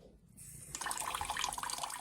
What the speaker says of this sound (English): Do you want the tap on?